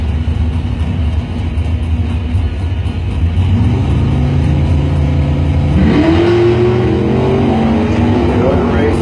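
A 1968 Mustang and a 1964 Impala launch at a drag strip, engines roaring loud and continuous, with pitch climbing sharply as they accelerate away near the end, a track announcer talking over the noise.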